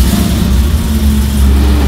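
A massive 6.2 liter supercharged V8 in a salvage Corvette, its deep, steady engine note holding loud and close with a slight swell in the revs throughout.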